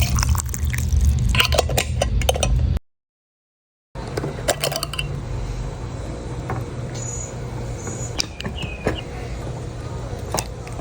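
Fresh okra being washed in water in a kitchen, with steady splashing and running water, clinks against a bowl, a brief break in the sound, then continued rinsing and dripping.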